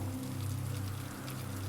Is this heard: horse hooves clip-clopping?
no